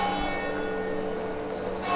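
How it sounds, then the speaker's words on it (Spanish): A church bell in Caacupé, Paraguay, rings the hour, leaving a sustained resonant hum with layered tones that hangs steadily at moderate loudness with no talking. "Y están acostumbrados ya ustedes con el sonido de la campana, ¿verdad?"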